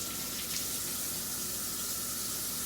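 Running tap water splashes steadily over hands in a kitchen sink as egg yolk is rinsed off, a continuous broadband gush filling the short moment with no talking.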